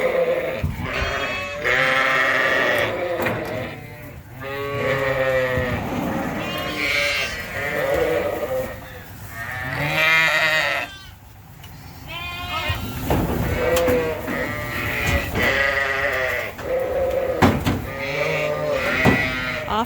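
Sheep ewes and lambs on a farm bleat loudly and continuously, many overlapping calls of varied pitch close by, as the mothers are moved through pens with lambs answering.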